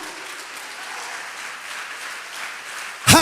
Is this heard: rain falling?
no